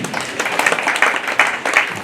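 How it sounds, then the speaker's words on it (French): A festival audience claps together, a dense burst of applause with sharp rhythmic peaks, close and fairly loud, with faint voices mixed in. "applaudissez pour vous-même."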